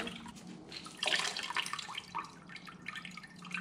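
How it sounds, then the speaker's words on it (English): Quiet sloshing and squelching of a foam motorcycle air filter being washed in soapy water, with irregular splashes and drips, close by. "washing the filter in the soap and water."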